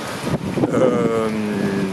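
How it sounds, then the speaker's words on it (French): Strong wind blows outdoors in Portland, buffeting the microphone with a loud, rushing roar that dips briefly and then holds steady. "Il y a beaucoup de vent aujourd'hui à Portland."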